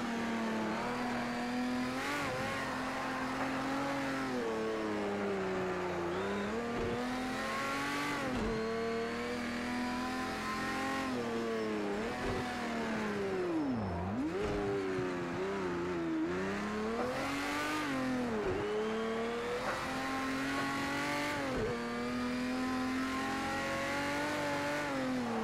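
Porsche 917k racing car in Project CARS 2 on the Nordschleife, engine roaring loud and steady, rising and falling through gear changes and revs as the car slides around the track.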